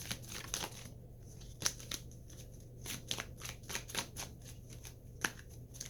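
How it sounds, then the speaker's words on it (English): Tarot cards are shuffled by hand in quick, crisp riffling bursts, repeated irregularly at close range over a faint steady hum. "This is how I shuffle my cards."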